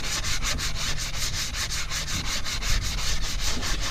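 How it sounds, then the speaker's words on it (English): Small sandpaper scrubs surface rust off a metal hand sickle in quick, regular back-and-forth strokes, a rapid rhythmic rasping of about four strokes per second, close and steady with no voices. "First we need to use a small sandpaper to remove all the surface rust."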